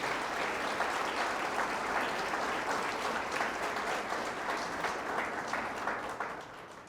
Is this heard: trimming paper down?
no